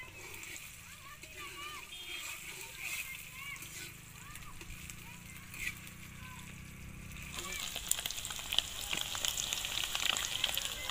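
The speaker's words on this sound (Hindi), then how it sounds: "पनीर फ्राई हो गया है" Paneer frying in hot oil in a pan while cooking matar paneer, a steady close sizzle and crackle with splattering that grows livelier toward the end.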